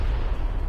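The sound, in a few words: grenade explosion in PUBG video game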